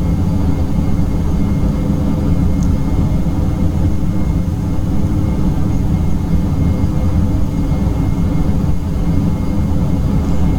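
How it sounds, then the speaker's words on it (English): Dash 8 Q400 turboprop on approach with landing gear lowered and flaps extending, a steady loud cabin drone of engines and airflow that continues without a break. "so now we can lower our gear. Condition levers max, minimum, Flaps down to 10, flaps down to 15."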